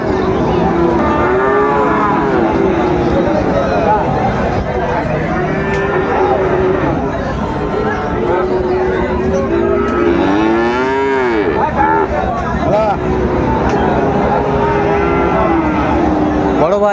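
Friesian and cross-breed bull calves bellow and moo loudly and continuously at a busy cattle market, with overlapping calls close by and crowd voices underneath.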